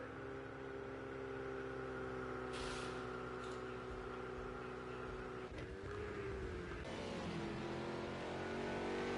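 McLaren race car engine in Project CARS 2 at Snetterton, a steady sustained drone with pitch shifts as it changes gears, heard faintly at a distance without talk.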